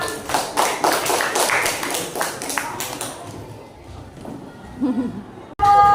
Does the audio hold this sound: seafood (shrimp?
no